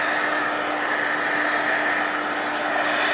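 Steady, loud whooshing drone of a hair dryer blowing on mixed media art pieces, an unbroken airflow hum with a faint tonal whine and no talk.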